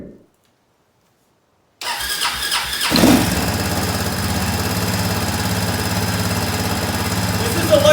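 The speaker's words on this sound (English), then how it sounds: "Starting the engine, just rebuilt for the first time, and letting it run in." A freshly rebuilt Arctic Cat 400 ATV engine with electric choke cranks after a brief silence, catches, and settles into a loud, steady running drone close by.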